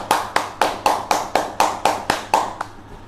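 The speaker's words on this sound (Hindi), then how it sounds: "सो जोरदार तालियां हो जाए इन दोनों के लिए" Steady applause from a small group at an online public speaking competition result announcement, about ten evenly spaced clap bursts ringing close and loud before trailing off near the end.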